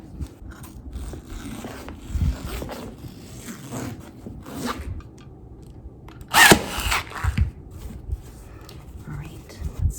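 Upholstery fabric being trimmed off a vintage dining chair, with scattered cutting and scraping sounds, a sharp loud burst midway and voices talking intermittently nearby.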